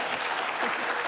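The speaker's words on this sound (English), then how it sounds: "I was hoping somebody would jumpstart that applause" Audience applause at a local gathering in Mesa: steady, dense clapping from a crowd, fairly close and even in loudness throughout, with no voices over it.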